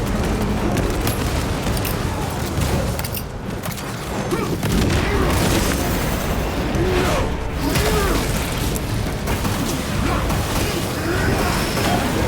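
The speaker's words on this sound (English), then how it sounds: "Throwing crack grenade!" A crack grenade goes off during Warhammer 40K Space Marine 2 combat, a dull boom buried in a dense, continuous wash of gunfire, clanking and battle noise that stays loud for the whole stretch.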